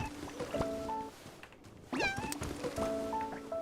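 Cartoonish cats meow in a video game, a few short rising mews standing out over a busy musical game soundtrack, with a soft thunk partway through.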